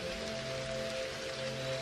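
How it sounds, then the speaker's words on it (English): Steady rain patters on a surface, a close, even hiss with dense drop texture and no pauses, alone with no voices. "Now just enjoy the sound of the rain and the feeling of tranquility"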